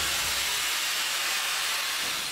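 Steady, loud broadband hiss of steam from the steam engine of a lake steamer, a continuous rushing sound with no talk over it.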